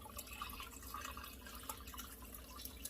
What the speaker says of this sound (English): Add some more water to it.